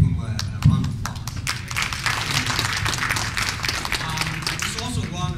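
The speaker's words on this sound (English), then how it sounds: "please give them a round of applause" Audience applause fills a community session room, a dense, steady wash of many hands clapping throughout, with a few louder nearby claps and some low murmuring underneath.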